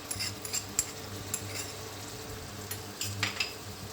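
Chopped tomato and fresh curd go into mutton liver frying in a kadahi, giving a soft steady sizzle with light scattered clinks and stirring taps, no talk.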